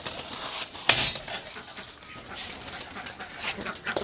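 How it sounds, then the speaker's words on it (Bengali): Pigeons in a loft at feeding time, soft cooing and fluttering amid a rustling background, with one sharp bright clink near the start. "খাবার দিয়ে দিয়েছি পায়রাগুলোকে"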